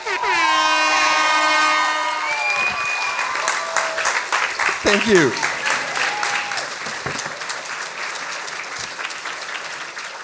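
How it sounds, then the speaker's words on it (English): A sustained, musical horn-like tone opens before an audience at a science slam breaks into steady clapping that swells and fills the room, with a brief spoken thanks over it. "Big applause for Chun."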